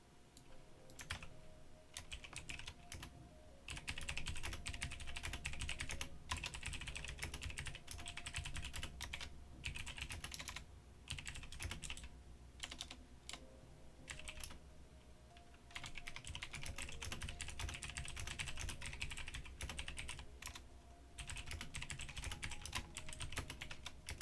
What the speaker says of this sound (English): Sorry, all the typing.